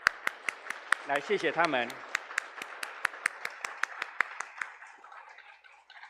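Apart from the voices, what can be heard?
congregation applauding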